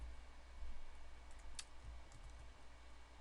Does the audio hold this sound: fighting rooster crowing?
no